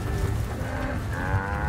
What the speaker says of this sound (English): We're in the middle of the cows.